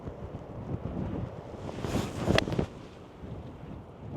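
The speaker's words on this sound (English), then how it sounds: "there's a heck of a wind coming off" Strong wind buffets the microphone on a coastal golf course at Borth and Ynyslas, a steady broadband roar with a louder gust swelling near the middle, with no speech.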